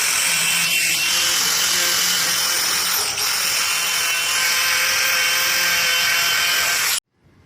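A cutoff wheel grinds through a Lexan windshield for a chop-top truck, a loud continuous high-pitched whine and rasp that holds steady for about seven seconds before cutting off abruptly.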